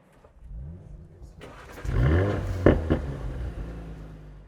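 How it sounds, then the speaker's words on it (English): An Audi RS4 Competition cold-starts in dynamic mode: the starter whirs, then the engine catches with a loud flaring rev from the exhaust that settles into a throaty, close idle. "It has a better startup in dynamic mode as well, which you're going to put the car into now."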